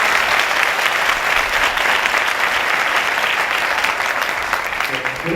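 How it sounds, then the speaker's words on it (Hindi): Loud, sustained applause from a church congregation at a Kripa Satsang service, many hands clapping in a thick continuous wash that eases slightly toward the end. "हम एक दूसरे के लिए भी ताली जोर से बजाएंगे।"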